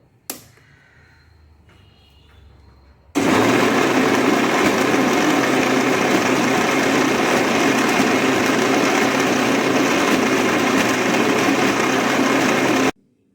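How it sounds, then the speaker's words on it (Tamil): A kitchen mixer grinder grinds soaked rice in its jar, a loud, steady whirring motor roar that starts abruptly after a few seconds of quiet and runs unbroken to the end. "முதலில் நாங்கள் அரிசியை ஊற வைத்து மிக்சி ஜாரில் போட்டு அரைப்போம்"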